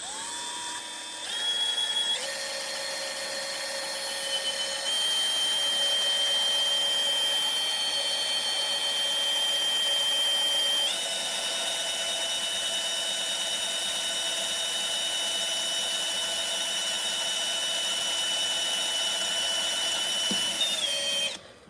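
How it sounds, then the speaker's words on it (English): A small power drill with a 1/16-inch bit bores slowly through the plastic windshield of a Hot Wheels toy car, a steady high whine holding for about twenty seconds with slight pitch shifts as it melts through. "You have to kind of drill through and let it kind of melt its way through almost."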